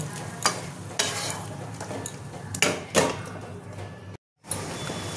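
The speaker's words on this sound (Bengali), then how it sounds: "এবার এটা আমি কষিয়ে নেব, ভালো করে তেল ছাড়া পর্যন্ত কষিয়ে নেব" Spice masala frying in oil for a Bengali prawn dhokar dalna, with a steady sizzle and several sharp scraping stirs of a spatula against the pan. A brief silent gap comes near the end before the sizzling resumes.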